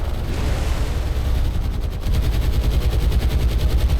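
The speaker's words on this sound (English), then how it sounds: "these brave crews can't see anything apart from the anti-aircraft fire" Dense, continuous anti-aircraft gunfire from a warship in the naval combat game War on the Sea, rapid rattling bursts with heavy low rumble, loud and close, briefly dipping then resuming at full intensity.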